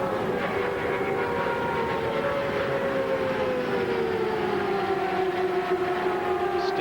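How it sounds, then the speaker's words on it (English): Turbocharged IndyCar engines race at the 1997 U.S. 500 oval, a steady loud drone of several cars with pitch slowly sliding as they pass, continuous with no talk over it. "Distinctive sound of turbocharged IndyCar engines."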